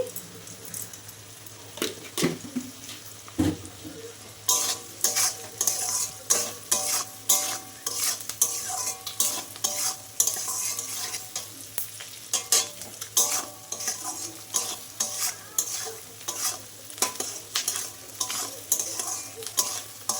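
Chili chicken frying in a pan and stirred vigorously, rhythmic metallic scrapes of the spatula repeating about twice a second over a constant sizzle, close and loud, no speech.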